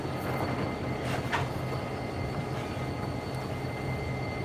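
A CSX RPE 4C diesel locomotive idles coupled to a second locomotive, a steady low rumble heard from a distance and high above, with a constant droning hum and no talking.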